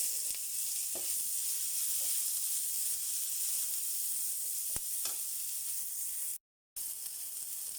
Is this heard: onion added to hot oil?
yes